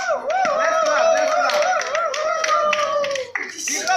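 Audience clapping at a comedy show, a steady patter of hands running beneath loud, melodic voices that dominate throughout, with a brief dip near the end.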